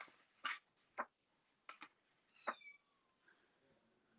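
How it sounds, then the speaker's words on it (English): A small indoor cat meows several times in short separate calls, close by and fairly soft, with a quiet room in the background and no talking. "the little cat we have here right now"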